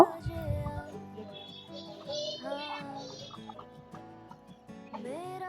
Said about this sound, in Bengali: এখানে ওরা মুরগি পালে, ওই মুরগিগুলো এখানে ছিল